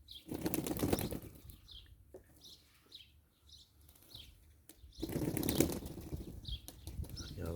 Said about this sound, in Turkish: Kanat çırparak da bir an önce o üzerlerinde kalan suyu tozda bu şekilde atıyorlar.